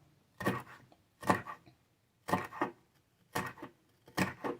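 A knife chops a jalapeno on a board in five crisp, separate strikes at a slow, uneven pace, close and clear with no voices.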